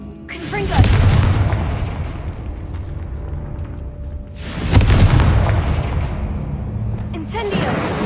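Confringo spell blasts in Hogwarts Legacy, three loud booming explosions a few seconds apart, each a sharp burst trailing into a deep rumble.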